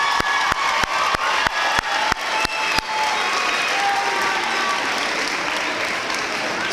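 An eighth grade graduating class gets applause: a run of loud, evenly spaced single claps gives way to a sustained wash of clapping from a large crowd.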